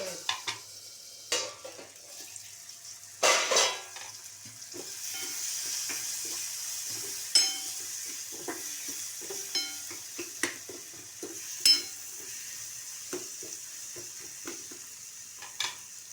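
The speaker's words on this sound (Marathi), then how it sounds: "पावडर मसाले पण टाकायचे त्याच्यामध्ये चांगलं परतून घ्यायचं एक दोन मिनिट" Powdered spices are sautéed in an oily pan for a dried-shrimp dish, with a soft continuous sizzle broken by scattered spatula scrapes and clicks against the pan. The sound is close and fairly quiet.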